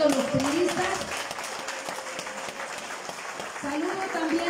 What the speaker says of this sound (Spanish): un aplauso para todos los priistas